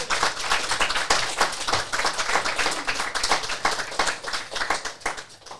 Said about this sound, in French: on peut donner une bonne main d'applaudissements